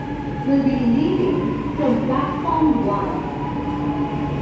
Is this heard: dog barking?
no